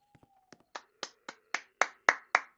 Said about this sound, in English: That's me clapping, by the way.